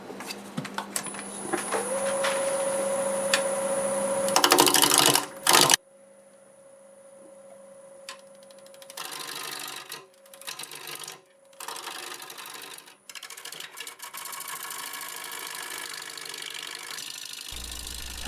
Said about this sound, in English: I'm going to start with a 1/2 inch bowl gouge, about 750 RPM